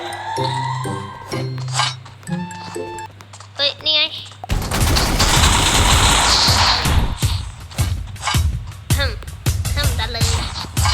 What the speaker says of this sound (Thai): ได้ยินเสียงปืนนะ มีคนใส่ปองเก็บเสียงยิงอยู่เดี๋ยวนี้นะครับ